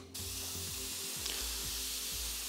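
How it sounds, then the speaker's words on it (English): A cheap BD-130 airbrush sprays cleaner onto paper, a steady broad hiss starting abruptly and holding for a couple of seconds over a low mechanical hum with faint rhythmic ticking. "And just spray it on my paper."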